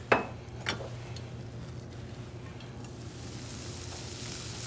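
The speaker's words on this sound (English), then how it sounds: "we're going to start off by sauteing the onions. Use a little extra virgin olive oil here." Onions sauté in extra virgin olive oil in a pan, a steady close sizzle with a couple of sharp utensil clinks at the start, with no talking.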